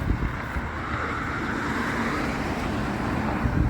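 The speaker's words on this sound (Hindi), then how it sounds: "ये साथ में ये ट्रैफिक चल रहा है।" Steady road traffic streams past a large, crowded mosque in Canada during Eid al-Fitr prayers, a continuous broad rumble and hiss of passing cars that stays at an even loudness with no voices.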